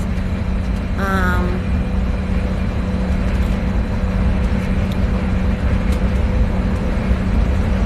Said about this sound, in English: He can only hear, like, you know, the sound of the motor and the door vibrating and the wind hitting the bus.